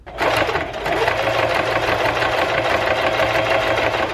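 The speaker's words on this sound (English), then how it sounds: "We sewed the ruffles on" Sewing machine stitching ruffles onto a fabric shoe cover, running in one continuous, steady mechanical whir close by with no talking.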